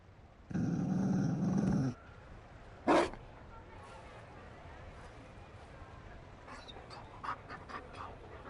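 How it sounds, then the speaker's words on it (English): A Mabari war dog in a fantasy role-playing video game pants loudly for over a second, then gives a short sharp growl, followed by faint scattered yips and movement over a quiet background. "You found a dog?"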